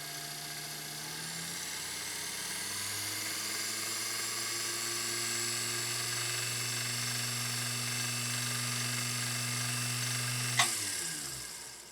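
A vintage Singer 201-2 sewing machine motor runs with a continuous whirring hum and shifting pitch that steps up and down, ending in a short sharp click as it stops; no talk.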